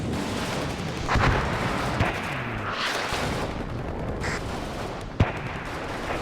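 Mortar artillery fire thuds and booms in the WARNO strategy game, with scattered sharp reports and a distinct loud impact near the end over a dense, rumbling battlefield din.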